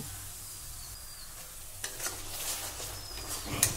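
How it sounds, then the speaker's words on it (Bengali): Spice paste goes into onions frying in a pan for a green jackfruit kaliya. A quiet background hiss swells into a brighter crackling sizzle, heard close with no talk. "পেঁয়াজের রঙটা পাল্টে গেলেই দিয়ে দিচ্ছি আগে থেকে পেস্ট করে রাখা মশলাটা"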